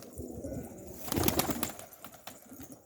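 A pigeon settles near a backyard coop, with soft cooing and a brief flutter of wings at close range, a little louder in the middle of the moment before the bird calls fade off.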